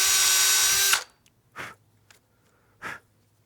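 A barrel trimmer spinning against the brass tube of a honeycomb blank gives a loud, steady high-pitched whir for about a second, then cuts off, followed by two short soft breathy sounds in a quiet room.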